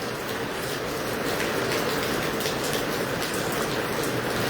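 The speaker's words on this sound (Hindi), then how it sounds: "तेज़ बूंदाबांदी हिसार में और आसपास के ज़िलों में शुरू हो गई है।" Heavy drizzle falls in Hisar, a dense, even hiss of raindrops pattering on surfaces, steady and close throughout with no voices.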